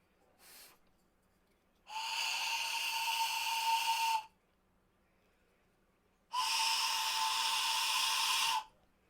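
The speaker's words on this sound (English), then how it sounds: "The Godfather's train whistle." A novelty toy train whistle sounds two long, steady, breathy blasts after a brief short toot, close and clear in a quiet room.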